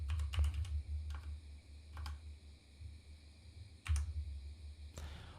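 A computer keyboard clatters as a command is typed into a terminal, with quick bursts of sharp key clicks separated by short pauses, close and clear.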